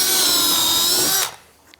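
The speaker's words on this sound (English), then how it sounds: "So I measure 4 foot up and I pre-drill hole." A power drill bores a pilot hole into the wooden frame of a chicken coop, a loud steady whine held for about a second and a quarter before cutting off abruptly, leaving near-silence.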